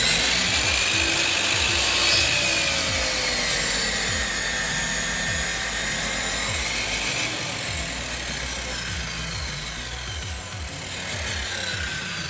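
Hand saw cutting wood for a miter joint on a brace project, a steady run of close rasping strokes with regular rhythm lasting throughout, no talking.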